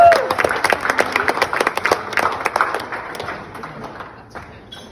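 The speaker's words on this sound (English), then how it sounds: "So give yourselves another round of applause." Wedding guests at Ricky and Katie's wedding burst into a round of applause: distinct, close claps and thumps ring out rapidly, then thin out and die away over a few seconds.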